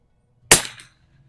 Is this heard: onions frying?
no